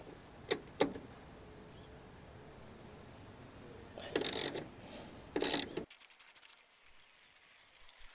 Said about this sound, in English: Use a 10mm socket and wrench to remove the bolts.